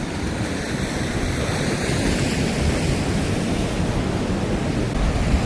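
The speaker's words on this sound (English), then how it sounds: "Big ass waves." Big ocean waves break against a beach. The surf roars as a loud, continuous wash with no pauses, and there is some wind noise on the microphone.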